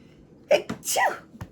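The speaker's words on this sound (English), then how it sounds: "That was a good sneeze." A single sharp sneeze, close and loud, with a quick intake of breath just before it.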